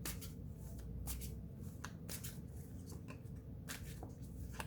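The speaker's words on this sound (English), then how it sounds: "Let's get two more cards over here." Tarot cards are shuffled and drawn at a reading, soft papery riffles and flicks repeating at close range over a steady low hum.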